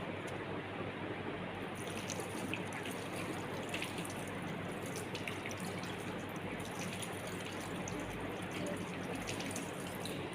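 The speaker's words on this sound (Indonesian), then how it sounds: "Lalu mencuci tangan dengan sabun dan air mengalir." Hands being washed with soap under a running tap, a steady broadband water flow and splashing that continues evenly throughout at close range, with no voices.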